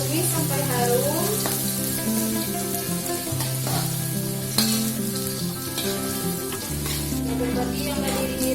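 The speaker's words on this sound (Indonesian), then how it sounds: "Tumis sampai harum." Green beans and egg stir-fry in a pan with a continuous crackling sizzle, heard beneath steady background music throughout, with no one talking.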